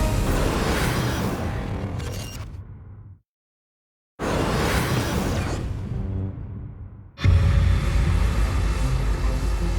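Airbus Beluga ST cargo plane jet engines at takeoff roar in loud, broadband bursts, the first two fading out and separated by a brief silence, then a sustained heavy rumble returns near the end.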